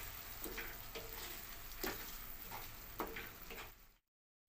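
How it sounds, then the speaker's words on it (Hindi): Fresh yogurt stirred into sizzling spices in a pan for dhaba-style dum aloo: a steady frying hiss broken by several soft scraping strokes of the spoon, ending abruptly in silence. "अब हम इसमें 1 कटोरी फ्रेश दही डाल देंगे और इसे भी 1 मिनट तक चला लेंगे"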